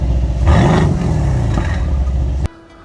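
Mercedes-AMG GLC63 S coupe facelift with its turbocharged V8 revving hard, a loud close exhaust roar that climbs and falls, then cuts off abruptly.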